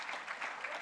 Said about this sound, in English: A round of applause as she comes and encourage her.